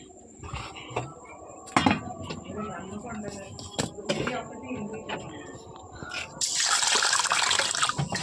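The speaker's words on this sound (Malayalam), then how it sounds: "അങ്ങനെ വെള്ളം ഒഴിച്ചു" Water is poured in a home kitchen while rice is being soaked, a brief splashing rush building to a louder sustained pour near the end, with household clatter and people talking throughout.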